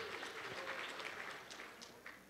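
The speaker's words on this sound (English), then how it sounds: "He doesn't get as much applause for that one." Faint, distant applause from the audience at a medical university Match Day ceremony as an award winner is recognized, a thin scattering of claps that tapers off slightly toward the end.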